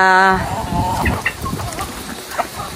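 Hens clucking and crowing nearby as they are fed, with a sustained harmonic crow at the start, then scattered short clucks and chatter over a windy, noisy background.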